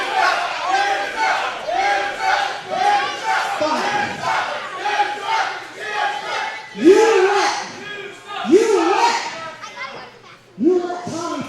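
Rowdy wrestling fans at a UCW-Zero Maximum Carnage event holler at Adam Reyes, a dense wall of shouted voices with several sharper, louder yells cutting through near the end.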